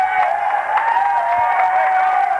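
Crowd noise fills a college men's basketball gym, CSJ against Clarkson, in the last seconds of a game: a steady, loud roar of voices with scattered claps, holding strong throughout.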